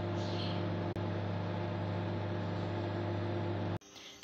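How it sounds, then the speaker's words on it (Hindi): A microwave oven heating frozen chicken nuggets, a steady close mains hum with a whirring drone that runs unbroken, briefly dips, then cuts off near the end. "तो इसको मैं लगाती हूँ ओवन और आपको दिखाती हूँ।"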